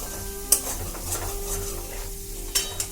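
Cauliflower frying in a covered wok gives a steady low sizzle, with a couple of sharp scraping clinks from stirring and no voices.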